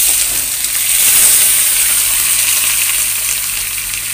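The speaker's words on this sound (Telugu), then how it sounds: "ఆయిల్ లో డీప్ ఫ్రై చేద్దాం వేయించుకుందాం" Raw banana pieces frying in oil with curry leaves, a loud continuous close-up sizzle and hiss that swells briefly then holds steady, no speech.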